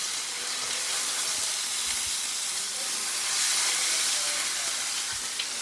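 Oxtails frying in a pan for a Jamaican stew, a loud, dense, continuous sizzle and hiss that stays steady throughout with faint crackles.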